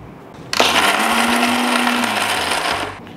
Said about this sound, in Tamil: இது எல்லாத்தையும் நல்லா மிக்சியில் போட்டு ஒரு சுற்று சுற்றி எடுத்துக்கலாம்